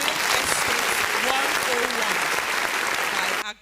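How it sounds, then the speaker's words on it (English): A conference audience breaks into sustained applause, a dense wash of clapping hands that holds steady for several seconds before cutting off abruptly. "Please, a round of applause for him once again if you enjoyed that session."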